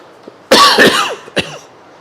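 A person with a sinus cold coughs in a sharp, close burst, followed by a smaller second cough a moment later, with quiet room tone between.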